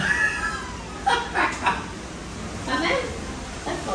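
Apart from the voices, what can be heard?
cat meowing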